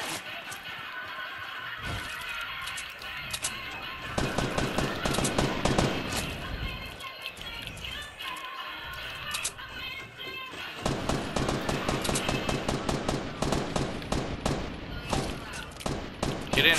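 Fortnite gunfire rattles in dense, rapid bursts from several weapons over a noisy game mix, loud and continuous with brief lulls, while players talk over it.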